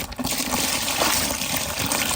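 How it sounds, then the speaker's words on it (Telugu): Water pours steadily and loudly into a container holding live fish, a continuous splashing gush from start to finish with no speech. "ఇప్పుడు ఒకసారి వాటర్ అయితే పోస్తున్నాం వీటికి"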